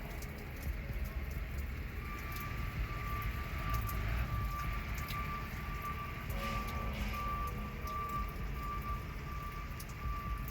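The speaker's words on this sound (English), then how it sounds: "There's the Duke Energy Progress truck trying to get us some power back on." A Duke Energy Progress utility truck backs up during a storm-caused power outage, its reversing beeper repeating steadily over a constant low engine rumble at moderate distance, with rain or wind noise in the background.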